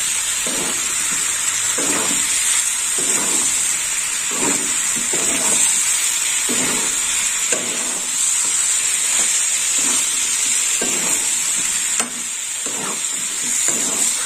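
Mixed vegetables stirred and cooking in a pan for a Bengali five-vegetable ghonto, a steady bright sizzle and hiss running throughout with repeated soft scraping strokes of the stirring spoon at a regular pace.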